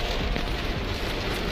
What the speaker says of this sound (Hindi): तेज बारिश हो रही है